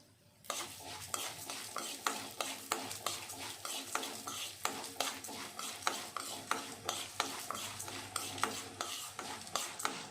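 Coriander seeds roasting with cinnamon and cloves in a pan for homemade vangi bath powder, a steady rhythm of close, crisp scraping stirs over a low sizzle, repeating about twice a second.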